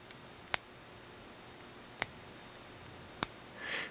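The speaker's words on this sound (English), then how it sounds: "You hear that clicking?" A G.I. Joe action figure's flawed leg joint giving three sharp, isolated clicks spaced over a few seconds against a quiet background, followed by a faint rustle.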